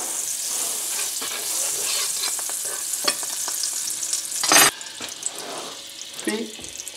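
Floured beef frying in a pan with oil and butter, a steady loud sizzle with stirring and utensil scrapes throughout, a sharper burst of crackle near the end, no talk.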